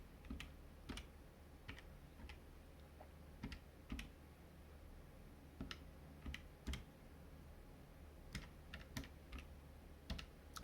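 Calculator keys tapped while a cubic equation is entered, sounding as scattered sharp clicks in short irregular bursts, quiet and close over a low steady background hum, with no talking.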